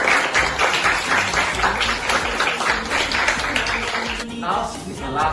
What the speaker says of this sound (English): Let's give a clap for Akil.